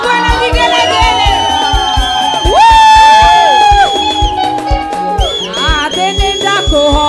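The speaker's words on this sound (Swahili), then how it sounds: "wapi makofi na shangwe na vigelegele" At a monthly prayer service, a congregation claps rhythmically under loud music with sustained singing tones, while cheering, whoops and shouts rise above the beat, close and energetic throughout.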